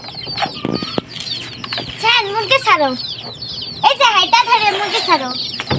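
Chickens and a rooster released at daybreak on a winter village morning, giving repeated clucks, crowing and bursts of wing flapping, close and fairly loud, with people calling out over them.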